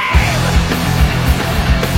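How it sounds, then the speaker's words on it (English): A short, harsh yelled scream bursts out loudly and alone, rough and strained, with a few rhythmic low thumps under it. "Gotta scream!"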